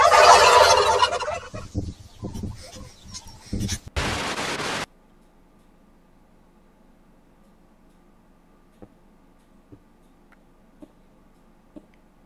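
Turkeys gobble in a dense, loud burst of overlapping calls over the first five seconds, then break off into near silence with only a few faint ticks.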